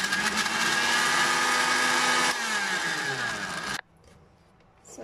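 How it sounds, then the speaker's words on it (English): A kitchen blender grinds onions, fresh turmeric, lemongrass, ginger, galangal and garlic with water into a paste: a loud, steady motor whir with a high whine that shifts pitch partway through, then stops abruptly, leaving quiet room tone. "Here goes my blender."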